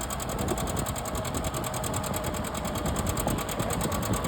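A John Deere two-cylinder tractor runs at a tractor pull, its engine giving a continuous rapid chugging beat heard from a moderate distance under a broad wash of outdoor noise.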